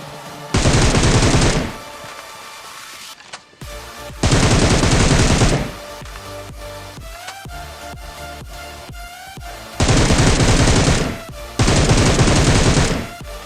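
Bursts of rapid automatic gunfire from a battle royale video game fight come in loud sustained volleys of about a second or two each, separated by quieter game ambience, with no talk.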